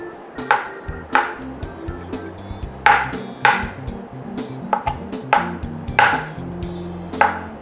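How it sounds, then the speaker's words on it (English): A knife slices through sticky boiled potatoes on a cutting board in a steady rhythm of sharp, close chops, each with a brief knock on the board. "I'm just slicing these sort of like this."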